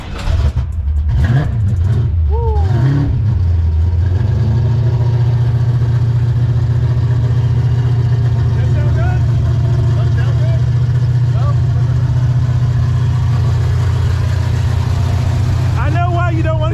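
A Fox body Mustang notchback with a Windsor 408 stroker V8 fires up with a brief rough crank and rev, then settles into a loud, steady, deep idle with a lumpy rumble, close by, with people talking faintly over it.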